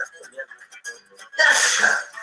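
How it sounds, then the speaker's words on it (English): A voice talks briefly, then one loud, sharp sneeze bursts out close up and trails off. "Don't sneeze in the supplements here."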